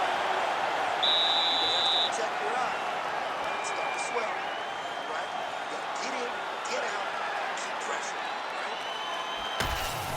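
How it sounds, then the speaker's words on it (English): Arena crowd in the UFC 5 video game, Oliveira vs Gaethje bout, applauding and cheering after a round: a dense, steady roar of clapping and crowd noise that holds loud for the whole stretch, with voices mixed in. "So the crowd voicing its appreciation after that round."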